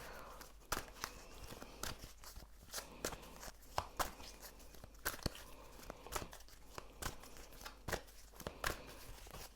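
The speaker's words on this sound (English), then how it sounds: "I'm gonna shuffle a little bit more" Tarot cards are shuffled by hand, producing soft irregular slaps, rustles and riffles in steady bursts over a low background hum, close and fairly quiet.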